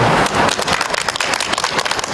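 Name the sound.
applause welcoming a speaker at a press conference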